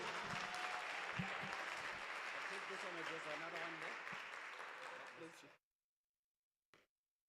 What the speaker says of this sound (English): Give him a loud round of applause.